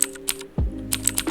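A few sharp clicky key presses from a simulated blue-switch mechanical keyboard, in quick bursts, close and crisp, with a brief low thump in the middle.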